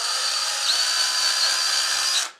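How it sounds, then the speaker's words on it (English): A power drill whines steadily and loudly at close range for a couple of seconds while drilling pilot holes into plywood in an RC model plane wing, then cuts off. "Going to go ahead and pre-drill me 4 pilot holes."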